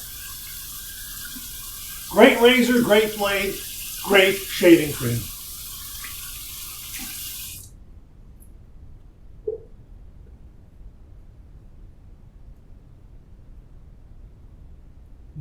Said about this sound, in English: We'll run this under some cold water and see what kind of feedback we get.